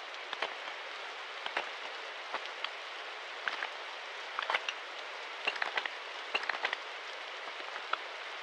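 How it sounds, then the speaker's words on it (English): Rain in the Roblox SWAT game Hellmet, a soft, constant hiss of falling drops with scattered louder pattering taps on surfaces, steady and fairly quiet throughout. "Nice, it's raining."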